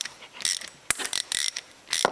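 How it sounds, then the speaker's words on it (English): A hose clamp on compressor plumbing being loosened, giving quick ratcheting clicks and metallic tool sounds in short, irregular bursts, close to the mic, with no talking. "Undo the hose clamp."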